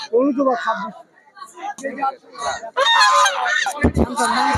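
Loud honking from geese, several overlapping nasal calls, mixed with people talking nearby.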